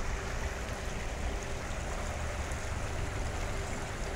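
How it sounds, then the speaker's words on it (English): Liebert Creek water flowing steadily through an original 1858–1859 East Pennsylvania Railroad stone culvert in Emmaus, PA, a continuous broadband rush and gurgle with no pauses, fairly close and unbroken. "this creek"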